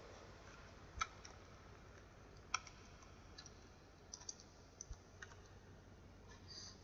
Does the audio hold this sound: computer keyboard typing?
yes